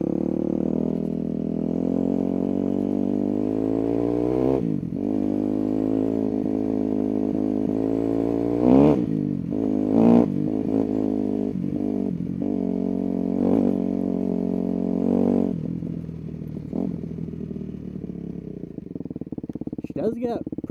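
A Yamaha YZ250F motorcycle with a freshly rebuilt engine still being broken in, ridden at a steady drone with rising and falling revs and a few sharp blips, close and loud, with a voice talking over it.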